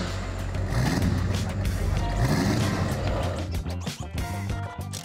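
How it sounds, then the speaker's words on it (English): A Chevy Silverado with a Duramax diesel engine and newly connected exhaust runs in a shop, a loud, rough, rumbling idle with knocking texture filling the whole stretch. "With the exhaust connected, we'll lower this truck and hear how it sounds."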